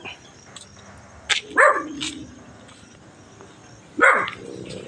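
Dog barking outdoors at a house during a nighttime wake gathering, two sharp barks a few seconds apart over quiet background murmur.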